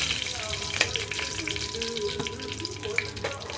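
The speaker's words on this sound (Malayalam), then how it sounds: "കടുകൊന്ന് പൊട്ടി വരട്ടെ" Mustard seeds with dried red chillies and a sprig of curry leaves crackle and splutter in hot oil, a steady close sizzle broken by several sharp pops.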